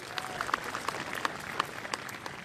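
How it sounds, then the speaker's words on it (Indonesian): Applause from the audience at a national prayer ceremony marking Indonesia's 80th anniversary, with scattered claps and cheers that stay fairly faint and distant. "Hadirin kami mohon tepuk tangannya yang meriah."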